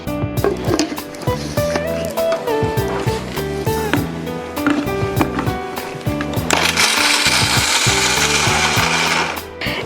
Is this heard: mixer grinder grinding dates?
yes